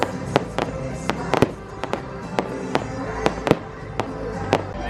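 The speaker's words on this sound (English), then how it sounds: "Oh, look, fireworks." Sharp fireworks bangs and crackles pop at irregular intervals over a low background hum, some louder and closer than others, at a Christmas show at Dollywood theme park.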